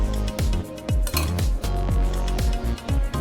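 Vegetables are spread into a skillet over a cornbread frittata base on a stove at low heat, with repeated sharp metallic clinks and scrapes of utensil against pan in an uneven rhythm, close and clear.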